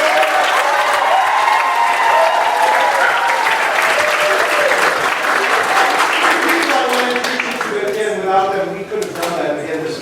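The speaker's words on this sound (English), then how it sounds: "Give them a round of applause." An audience at a drama festival applauds the costume and props team leads, loud sustained clapping with voices over it, thinning out near the end.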